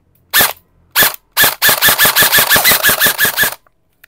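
An HFC airsoft rifle firing, loud and close: three single crisp shots, then a rapid full-auto burst of about a dozen evenly spaced cracks, ending abruptly.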